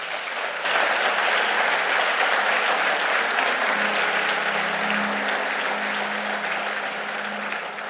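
A large crowd claps loudly and continuously, sustained applause with a faint low hum underneath.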